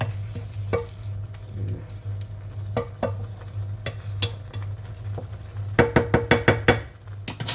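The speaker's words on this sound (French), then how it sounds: "Il faut bien mélanger la tomate hein, par contre." Tomato sauce cooking in a pan while a utensil stirs it: a constant low bubbling hum with scattered sharp scrapes and knocks, turning into a quick run of rhythmic stirring strokes toward the end.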